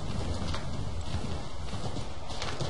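A horse gallops in Assassin's Creed 3, its hoofbeats a rapid, continuous clatter under a steady wash of game ambience, close and loud with no pauses.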